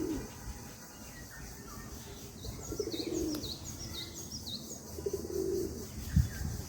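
Pigeons coo softly in a loft, with higher chirps overhead and low rounded coos rising at intervals; a single sharp knock lands near the end.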